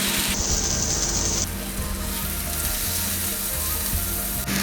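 A marinated beef steak, seasoned with salt, pepper and garlic, sizzles in hot oil in a Kochi cafe kitchen, a dense steady hiss with a brief high tone near the start and faint mechanical clicking.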